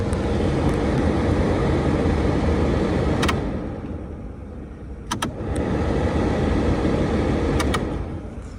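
The HVAC blower motor of a Ford Mustang runs as a loud, steady airy whoosh, dips quieter for a couple of seconds, then returns to full strength. A few faint clicks are heard and no one speaks.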